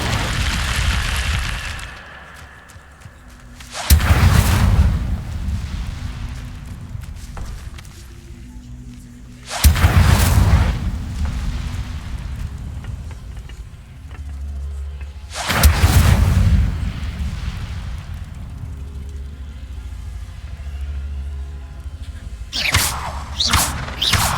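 Incendio fire spell cast in Hogwarts Legacy, four loud bursts of crackling flame and heavy impact at regular intervals, each decaying into a softer rumble before the next blast.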